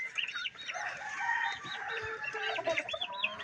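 A hen clucks close by in her nest, about to lay an egg, with a steady run of clucks and calls, alone and fairly faint.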